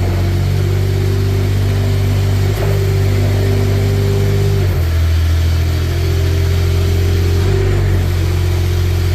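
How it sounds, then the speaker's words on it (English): The Kubota engine of a 2024 Manitou TMM45 4W forklift runs loud and close, a steady droning hum whose pitch dips and swells slightly as it settles. "So here's your Kubota coming to life."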